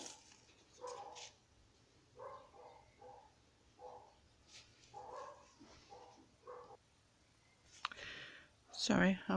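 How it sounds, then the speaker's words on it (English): Dogs barking at a distance outdoors, faint and repeated in irregular bursts, with a closer sharp sound near the end. "Sorry, I was just pausing until those dogs stopped barking."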